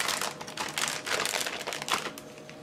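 Paper towel being folded into quarters beside a Weston Pro 2300 vacuum sealer, a close series of crinkling, rustling bursts lasting a couple of seconds with no talking.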